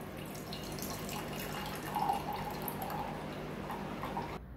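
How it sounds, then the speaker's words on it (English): Freshly blended wheatgrass juice strained at home, with a steady light trickle and dripping of liquid throughout, a brief stronger splash near the middle, no talking. "I am straining it now."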